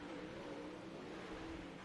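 Race cars roar around the Lernerville dirt track during a DSRL Monday Night Thunder championship race. The engines make a steady, faint, distant drone with no talking.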